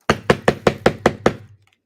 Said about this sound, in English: There was a knock at the door.